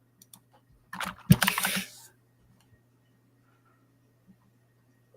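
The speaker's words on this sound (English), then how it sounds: "I'm just typing in Darina." Short burst of computer keyboard typing, a quick cluster of close clicks lasting about a second, followed by near silence.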